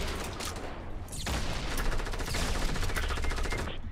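A drum gun fires in a video game as a loud, rapid, sustained automatic stream of close shots that barely pauses, with faint talk underneath.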